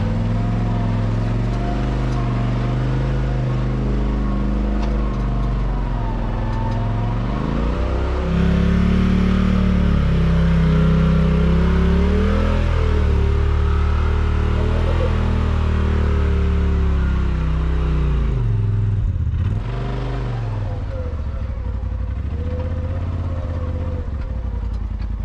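A UTV engine climbs a steep chute under steady throttle, a loud close-up drone whose pitch wavers and surges as the machine works uphill, then briefly drops near the end. No talk is heard.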